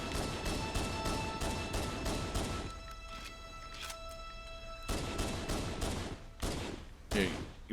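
Rapid pistol fire in the video game Halo: The Master Chief Collection, a quick string of sharp shots, a pause with sustained electronic tones, then more bursts and a crashing blast, at moderate volume.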